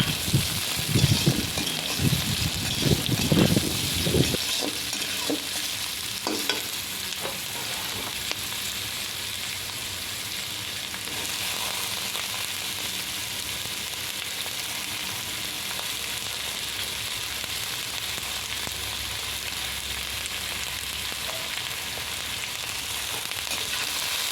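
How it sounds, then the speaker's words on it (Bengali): Chopped carrot and cabbage stir-fry in a pan for chow mein, starting with loud tossing and clattering stirs, then settling into a long, even, close sizzle. "গাজরটাকে নেড়ে নিয়ে ওর মধ্যে বাঁধাকপিটা দিয়ে দেব।"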